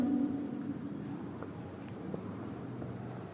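Faint scratchy strokes of writing on a classroom board, with short marker or chalk squeaks scattered over a low background hum.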